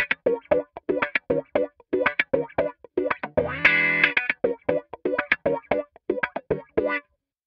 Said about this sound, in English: There's an auto wah setting here if you don't want to use the sweep with your foot